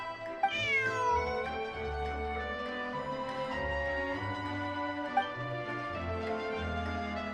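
A cat meows in the video game Genshin Impact, a clear, close drawn-out meow with a falling pitch, followed by sustained music with a couple of soft taps.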